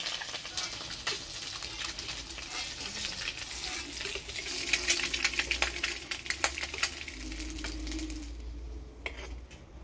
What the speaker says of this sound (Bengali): ডিমটা আমি একটু লাল করে ভাজে নিলাম, এবার তুলে নেব।